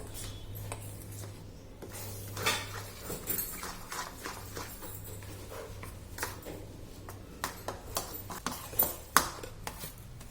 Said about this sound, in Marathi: आपण हे छान फेटून घेणार आहे जेणेकरून आपला केक छान फ्लपी होईल